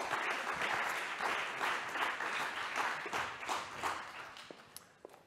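Audience applause at an academic session on student-athlete psychological and performance support, steady dense clapping throughout that thins toward the end with a few isolated claps.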